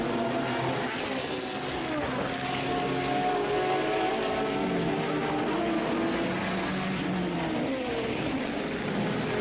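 Aston Martin GTE race cars run at COTA, with a steady layered engine roar and shifting pitches from more than one car passing at a moderate distance, continuous throughout.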